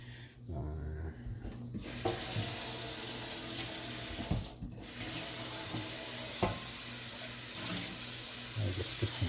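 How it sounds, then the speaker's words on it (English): Tap water runs steadily into a cooking pot in a home kitchen, a continuous close splashing flow with brief pauses and shifts as the pot is moved. "I'll just put some water here."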